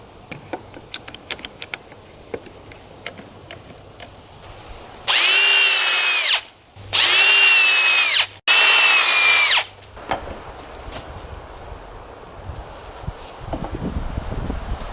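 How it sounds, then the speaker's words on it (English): Power drill pre-starting screws in wooden boards for a fish tank stand: three loud bursts of rising, whining motor noise in quick succession, with quiet workshop sounds before and after. "I'm going to pre-start my screws just to make it a little bit easier when I get ready to put the boards"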